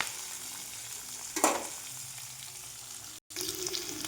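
Chopped capsicum frying in oil in a pan for an egg recipe, a soft, steady sizzle with a brief louder burst of spattering near the middle and a short stir, no voices.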